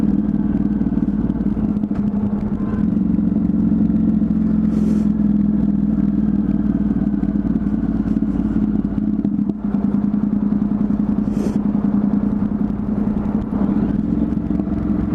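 A Honda CTX motorcycle engine with a modified exhaust idles and rumbles steadily throughout, with a deep, throaty exhaust note and a few brief rattles and clicks over it.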